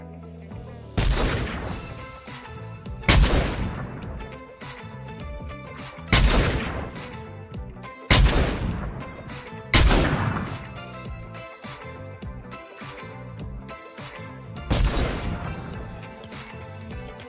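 Gunfire from a scrapped designated marksman rifle in the video game Fortnite: six sharp, heavy single shots spaced a second or two apart, each ending in a short ringing tail, with no voices.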